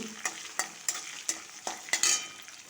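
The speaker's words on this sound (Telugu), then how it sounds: "చూడండి, ఇది కొంచెం వేగాలి. చిట్పట్లు ఆడుతున్నది." Whole garlic cloves frying in hot oil for a mango and onion chutney, with a steady sizzle and a series of sharp crackling pops and stirring scrapes about every third of a second, close and fairly loud, with no voices.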